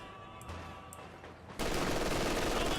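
Machine gun fire in Company of Heroes 2, a 2v2 World War II strategy battle on Fields of Winnekendonk: quieter battlefield ambience with faint pops gives way to a sudden loud, dense burst of rapid automatic gunfire filling the last second and more.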